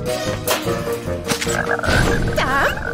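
Cartoon frog croaking repeatedly in an animated scene, loud, overlapping music and sound effects with rising and falling warbles.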